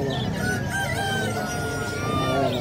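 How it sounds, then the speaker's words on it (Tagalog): Chickens, roosters and other fowl at a crowded livestock market cluck and crow together, a dense, continuous chorus of overlapping calls close by. "Ayan, mga manok, mga pangkatay"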